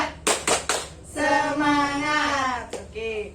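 A group of women claps a quick spirit-clap rhythm of three sharp beats, then chants together in a sustained sung call, with another clap and voices trailing at the end.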